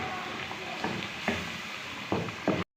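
Masala and potatoes fry in a pan with a steady low sizzle, broken by several spaced scraping stirs, close and moderately quiet, ending abruptly.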